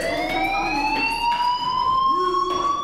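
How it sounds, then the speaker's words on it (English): A fire alarm in the video game Life is Strange rings steadily with a sustained, slowly rising electronic tone layered with harmonics, loud and continuous, with brief bursts of background noise and no talking. "do you hear that fire alarm?"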